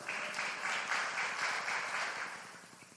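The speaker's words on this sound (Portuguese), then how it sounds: "Uma salva de palmas para eles." A church congregation applauding after a Sunday Bible school session, a dense, steady wash of clapping from a crowd that tapers off near the end.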